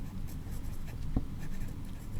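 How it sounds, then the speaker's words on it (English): Soft pen or pencil scratching as notes are written on paper beneath a lesson title, a faint, quiet, continuous rasp. "So underneath the title, I'm just going to write selected"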